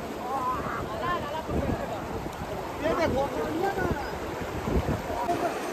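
Fast-flowing water at Pathpare waterfall near Prayagraj makes a steady, close broadband rush. It runs continuously beneath several people talking and calling out, with some wind buffeting the microphone.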